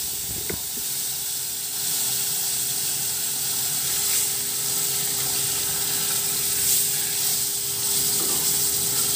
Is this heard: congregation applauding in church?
no